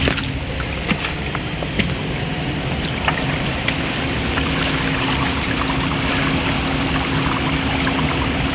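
Factory waste water pours into a river in a continuous rushing flow, with a faint steady hum and occasional soft knocks underneath.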